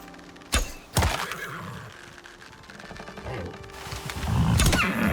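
Horse in the Icarus survival game giving a neigh and loud snorting whinnies, two sharp bursts early then a rising, rough whinny toward the end over faint ambient noise.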